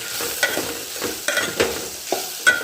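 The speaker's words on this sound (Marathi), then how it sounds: "आता हे पण याच्यामध्ये टाकून देते मी आणि छानपैकी असे परतून घ्यायचे" A spoon stirring red chili powder, garam masala and turmeric in a hot pan, with repeated scraping strokes about every half second over a soft, steady sizzle, close by.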